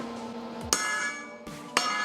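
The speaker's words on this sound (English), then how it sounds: "I'm going to pound that down till that hits there" A hammer pounds a metal spindle gusset on a 2005-2015 Toyota Tacoma to close a gap, with two sharp, ringing strikes about a second apart, close and loud.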